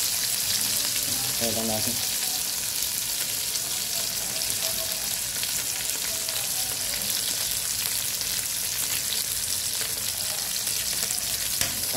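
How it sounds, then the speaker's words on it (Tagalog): Fish fries in a pan with a steady, bright sizzle and spatter that lasts the whole time, while someone speaks briefly near the start. "At lagay natin yung isda."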